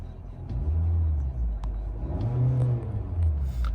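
A 2023 Nissan Altima SR pulling away from a standstill, its engine rising in a steady, close rumble and whir that swells and settles over a few seconds with no talking.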